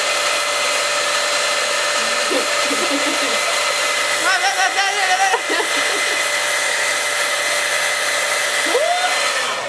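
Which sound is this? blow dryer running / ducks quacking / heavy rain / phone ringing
blow dryer running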